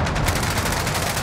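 Rapid automatic gunfire from a light machine gun in Call of Duty Warzone, a loud, dense burst of fast repeating shots filling the whole short moment.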